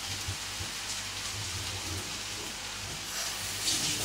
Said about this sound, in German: jetzt kommen die Eier oben drüber